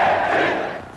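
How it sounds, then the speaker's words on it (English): A massive crowd of tens of thousands in Leningrad's Palace Square cheering and shouting at a demonstration, a dense roar fading slightly over one brief second. "Tens of thousands filled Leningrad's Palace Square to demonstrate against the coup and cheer"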